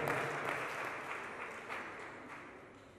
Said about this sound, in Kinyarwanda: amashyi menshi cyane kuri izo